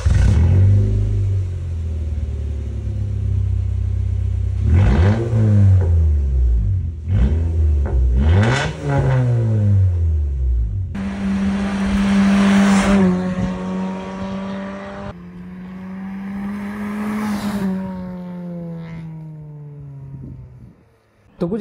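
A Honda City engine with an aftermarket Valvetronic exhaust revs repeatedly, deep rumbling blips climbing and falling, then sustained higher revs with a droning exhaust note, loud and close.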